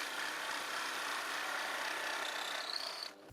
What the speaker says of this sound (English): cut 2 plywood discs to fit the inside diameter of the concrete tube